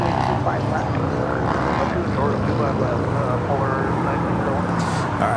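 An SAS Airbus A350 airliner taxiing at Los Angeles International Airport gives off a loud, steady jet engine roar, with mixed traffic and airport noise and some talk in the background.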